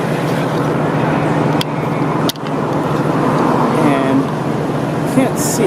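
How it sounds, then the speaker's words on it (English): Steady broadband rumble of a monorail ride in Tachikawa, Japan, a continuous rolling hum heard from inside the car, with brief dips and light background voices. "Home stretch of the monorail."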